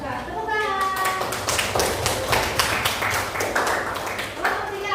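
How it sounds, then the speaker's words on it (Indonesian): Classroom applause from a group of students, a burst of many hands clapping together that swells and then thins out, with children's voices chattering over it. "Tepuk tangan."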